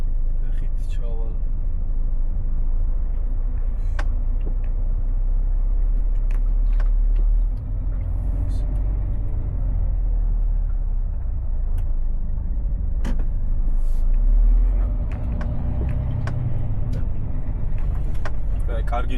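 Heavy truck on a run from Italy toward Austria, its engine rumbling steadily as it drives and pulls into a company parking lot, with a brief hiss and someone talking throughout.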